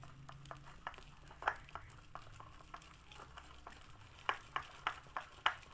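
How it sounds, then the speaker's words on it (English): A whisk taps and scrapes rhythmically against a bowl as potato pancake batter is beaten into a smooth paste, with quick close clicks that cluster more densely toward the end. "I'm going to whisk this until I form a very smooth paste."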